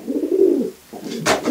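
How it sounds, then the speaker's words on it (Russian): A pigeon coos in low, soft, throaty bursts, one long rolling call then another after a short pause, close and fairly loud with a brief higher rustle near the end. "Ты такого голубя никогда не найдешь."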